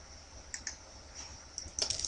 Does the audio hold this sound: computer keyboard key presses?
yes